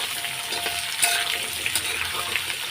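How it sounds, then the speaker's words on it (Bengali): Potatoes fry in hot oil in a pan as they are stirred, a steady sizzle broken by a few sharper scrapes and clinks of the spoon against the pan. "আলু দিয়ে একটু নাড়াচাড়া করে নেব ততক্ষণ একটু লাল লাল করে এটা ভেজে ভেজে নেব"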